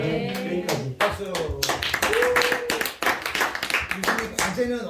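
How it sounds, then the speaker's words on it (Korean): A theology seminary class claps briefly, with scattered, uneven hand claps mixed with voices and chatter in the room. "박수."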